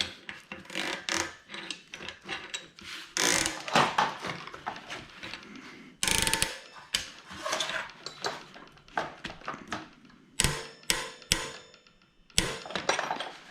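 Metal wrench clanks and scrapes against bicycle parts while a bike tune-up is underway, with repeated close, sharp knocks and ratcheting rasps arriving in irregular bursts and no talking.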